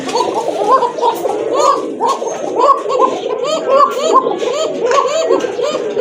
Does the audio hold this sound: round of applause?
no